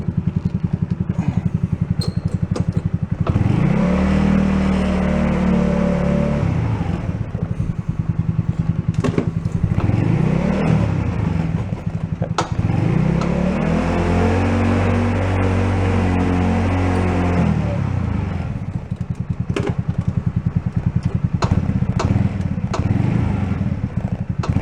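An ATV engine running close by in a steady loud drone, its pitch rising and falling through several throttle blips, with no talking over it.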